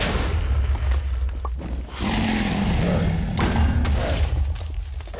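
Explosion in the Minecraft StoneBlock 2 modpack during a chaos chicken fight: a dense, loud blast and rumbling booms sustained for several seconds, with a second burst partway through.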